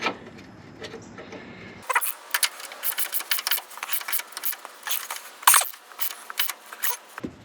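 Wrench tightening a bolt on a Range Rover Classic during bushing work, giving a rapid run of close metallic clicks and ratcheting bursts after a brief low hum, with no talk.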